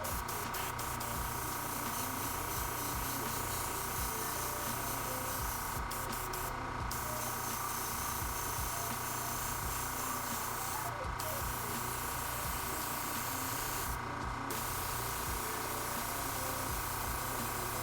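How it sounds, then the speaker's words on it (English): An airbrush sprays phthalo-tinted paint over green areas of a miniature, giving a steady, continuous hiss that runs throughout with brief pauses, close and moderately loud. "And I'm spraying directly on top of the phthalo right now."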